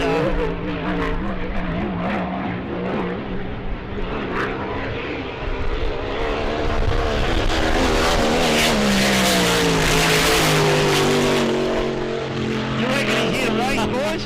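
A racing boat engine at the E C Griffith Cup powerboat race drones loudly with a steady, crisp tone that shifts pitch as the boat passes, while commentators talk over it.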